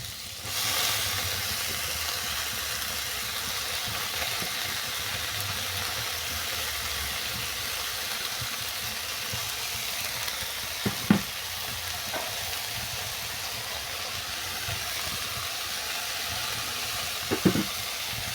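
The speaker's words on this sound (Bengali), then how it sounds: "বেগুনের সঙ্গে পেঁয়াজটাও কিছুক্ষণ ভাজা ভাজা করে নিয়েছি এরপর তুলে দিচ্ছি" Eggplant and onion with bathua greens frying in a pan give a steady, close sizzling hiss that runs throughout, broken only by a few light stirring clicks near the end.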